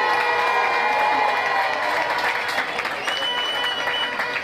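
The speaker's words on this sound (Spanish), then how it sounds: "Yo quiero pedirle un fuerte aplauso y una bulla, pero para todos ustedes que hoy enaltecen este gran evento." Audience applause and cheering at a city council event in Cúcuta, a dense, sustained wash of clapping and crowd voices filling the whole stretch at steady loudness.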